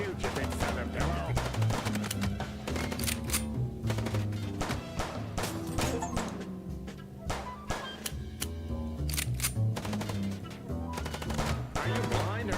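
Rapid bursts of automatic gunfire in the Chicken Police video game, sharp repeated shots firing continuously in clusters over a low rumbling background, with no pause across the stretch.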